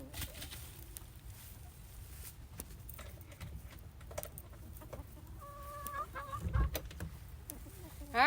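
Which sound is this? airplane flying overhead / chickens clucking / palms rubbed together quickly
chickens clucking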